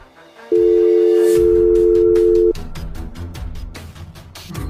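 A Sakura School Simulator phone call sounds as a single steady electronic tone held for about two seconds, followed by a quieter pulsing ring pattern.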